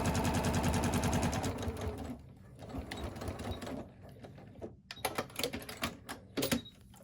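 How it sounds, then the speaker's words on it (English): A sewing machine stitches through all layers of a folded fabric pocket with a 1/4-inch seam allowance: a fast, loud mechanical chatter at the start, then it slows into short stop-start bursts and scattered clicks. "Go ahead and stitch through all layers."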